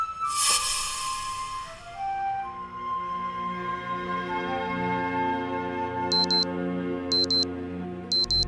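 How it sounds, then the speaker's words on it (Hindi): An alarm clock rings through a steady stretch of layered electronic tones, with short repeated beeps pulsing near the end, loud and close with no voices. "ये तुम्हारा अलार्म भी ना बहुत ही अजीब है यार"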